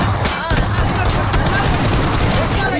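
Dense automatic gunfire from a mobile battle-royale shooter game, loud and continuous throughout, with players' voices chattering underneath.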